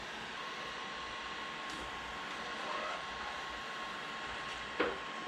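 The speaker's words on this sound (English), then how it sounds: "And the heat gun for the win. It worked. Got it off." A heat gun blows onto the back of a 2002 Ford Ranger fender to loosen an emblem, producing a steady, close, even airy roar throughout, with a brief knock near the end and no voices.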